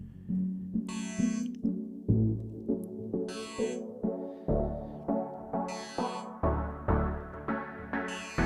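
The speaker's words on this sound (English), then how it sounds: "It's an FM clavichord, so it's got a DX7 sound." An FM clavichord synth with a classic Yamaha DX7 character plucks a bouncy, percussive pattern in a pop production, its sharp attacks joined by bright hissy accents and a low thumping pulse, steady and instrumental without speech.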